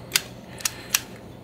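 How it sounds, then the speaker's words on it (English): A budget Taiwanese 35mm film camera has its shutter tripped three times, each a crisp, close mechanical click separated by short pauses over quiet room tone. "Trigger your shutter."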